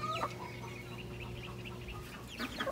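Chickens and a rooster around a barn cluck in short, quiet bursts at the start and end, faint and somewhat distant over a low steady background hum.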